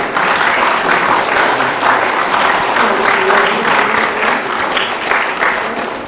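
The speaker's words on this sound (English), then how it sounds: "And let's give another round of applause." Audience at a library talk with an artist breaks into steady, sustained applause, loud and close, filling the room from start to finish.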